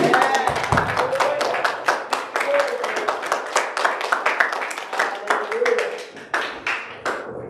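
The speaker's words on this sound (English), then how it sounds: "let's welcome her with a clap of hands" A church congregation claps hands to welcome a speaker before an evening sermon, a dense, lively run of claps falling into a loose rhythm, loud and close, with voices calling out over it.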